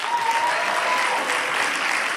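Audience applause at a live stand-up comedy show in Québec, a dense, steady wash of clapping from a large crowd throughout, with no voices above it.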